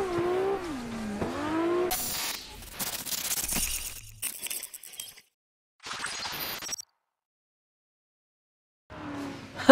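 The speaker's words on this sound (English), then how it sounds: "we're going to be doing some two-pedal drifting" Tires squeal and engines rev in bursts as cars drift in tandem in a racing sim game, driven with only two pedals and no clutch or handbrake; loud screeching stretches alternate with abrupt silences.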